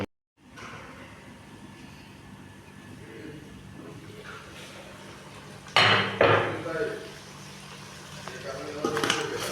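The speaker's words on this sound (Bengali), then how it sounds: "এই যে মিলিয়ে দিচ্ছি একটুখানি মিলিয়ে দিতে হবে নিচে লেগে না যায়" Bihari chicken curry, cooked without water, is stirred in a pot, the utensil scraping and clinking against the metal in a few loud bursts near the end, with speech throughout.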